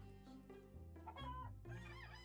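Chicken clucking in the farming video game Echoes of the Plum Grove, a short run of close, repeated clucks and calls over steady game music, with no talk.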